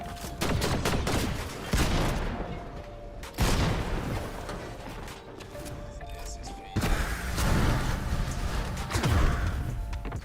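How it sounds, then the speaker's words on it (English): Shotgun blasts in an online shooter game replay with a suspected aimbot cheater, several loud, sharp bursts spaced a couple of seconds apart, each followed by a decaying crash and rumble. "that's a weird shotgun shot"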